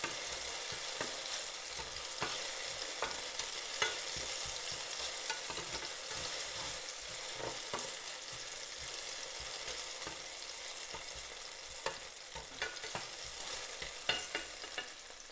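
Pork stir-fries in a hot pan with a continuous sizzle, broken up by frequent scrapes and clatters of stirring throughout.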